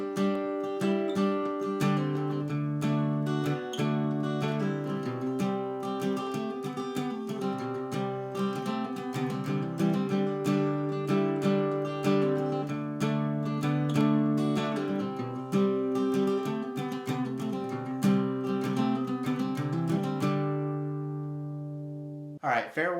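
Acoustic guitar plays the intro of a song, strummed and picked chords ringing steadily and up close for about twenty seconds before stopping abruptly, with no talking over it.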